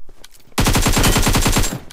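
AK rifle fire in a video game, viewed through a 4x scope, pours out as a fast, loud, close automatic burst of about a dozen evenly spaced shots lasting over a second, no voices.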